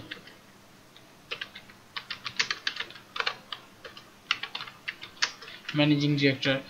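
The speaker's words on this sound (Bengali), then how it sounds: "তারপর এখানে নাম লিখে দিচ্ছি এমডি আরিফ, এখানে নাম লিখে দিচ্ছি কোম্পানির নাম হচ্ছে প্রাণ গ্রুপ" Fingers type on a computer keyboard while entering text into Microsoft Word, giving irregular bursts of close, crisp key clicks with short pauses, and a voice speaks briefly near the end.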